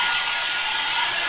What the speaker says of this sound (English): I'm running a hair dryer right now as well as this kettle